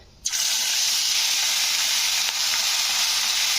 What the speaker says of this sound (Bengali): এবারে চলো মাছগুলো একটা একটা করে ভেজে নিই